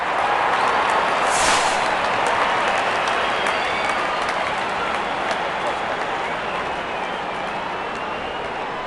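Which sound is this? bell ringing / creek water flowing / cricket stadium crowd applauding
cricket stadium crowd applauding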